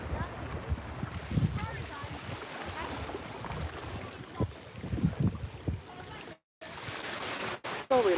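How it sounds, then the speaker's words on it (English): Water laps and splashes near a boat with steady wind in the background, the sound mostly continuous with intermittent louder surges and a couple of brief dropouts. "So relaxing just listening to the water."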